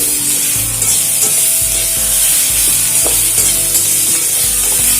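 Red chili powder being stirred into small mourala fish frying in a pan for a traditional Bengali chorchori, with a steady sizzle and repeated scraping stir strokes, close and alone.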